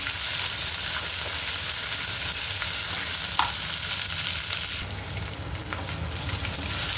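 Garlic paste sizzling steadily in hot oil as tempering for a hadga (agathi) flower curry, a loud, even crackling hiss with a few sharp pops.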